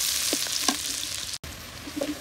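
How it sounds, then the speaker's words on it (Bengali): Chilies and onions fry in hot mustard oil, giving a steady, close sizzle with a few brief pops and one sudden short dropout midway. "তেল দিয়ে দিলাম, সরিষার তেল। মরিচ পেঁয়াজগুলো একটু লাল লাল যতক্ষণ না হবে ততক্ষণ ওয়েট করতে হবে।"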